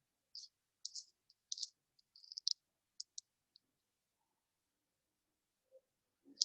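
Computer mouse clicks, sharp and close, in a quick irregular cluster early on, then a few isolated clicks separated by near silence.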